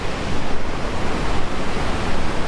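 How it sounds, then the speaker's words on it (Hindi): Fast-flowing water rushes loudly beneath a bridge built over a former waterfall near Munnar, Kerala, a dense, constant roar heard up close with no talking. "पानी का बहाव बहुत तेज है।"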